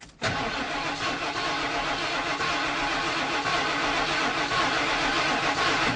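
A 7.5-liter engine in a 1995 Ford F-350 dump truck cranks and sputters continuously, loud and close, trying to catch without fully starting while its fuel pump is not pumping.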